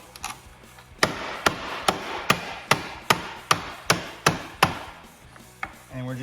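About ten evenly spaced hammer taps seat a bolt on the ski of a 2018 Ski-Doo MXZ X snowmobile, sharp and close, followed by softer handling noises.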